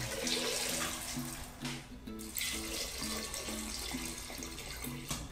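Water runs steadily from a tap into a cooking pot being filled to boil potatoes, a continuous hiss and splash with a faint background hum.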